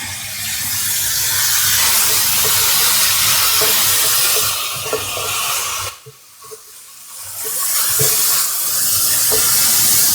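Shaved steak sears in a hot pan with a loud, steady, close sizzle and scattered crackles; the hiss drops out briefly midway, then returns just as strong.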